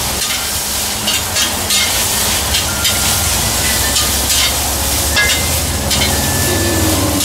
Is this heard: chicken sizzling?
yes